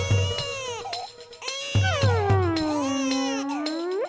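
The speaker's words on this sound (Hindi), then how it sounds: "तो फिर ये छोटे बच्चे के रोने की आवाज क्यों आ रही है?" An infant crying from a television in a home, a wavering high wail that rises and falls in long sobbing phrases with brief breaks, fairly close and loud, alone without talk.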